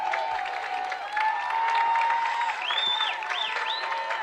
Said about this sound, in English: the crowd here on the west bleachers, some coming to their feet here to applaud the Cubs